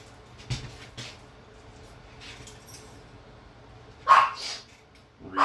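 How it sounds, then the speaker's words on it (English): A dog barks indoors in a few short, sharp bursts spaced apart, moderately near, over a quiet room background. "She's barking at me."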